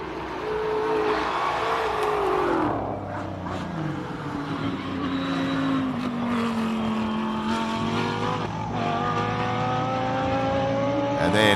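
A pink Lamborghini races up a hill climb course, its engine note rising and shifting through gears as it climbs, loud and continuous, with crowd or commentary noise underneath.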